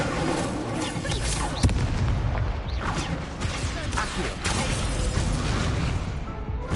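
Incendio fire spell cast during combat in Hogwarts Legacy, a dense roaring burst with sharp impacts over a continuous rumble, loud and steady throughout, with other game effects mixed in.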